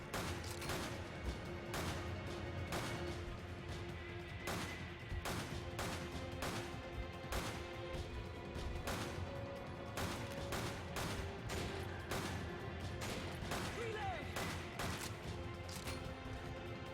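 Rapid, relentless gunfire from the video game Resident Evil 5, sharp shots cracking repeatedly at an uneven pace over a steady din of game sound, with no voices in between.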